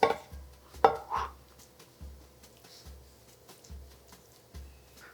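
A knife gently scoring a crisscross pattern into a meat-free belly, heard as a few soft, spaced cutting taps and slides on a board, fairly quiet, with no one speaking.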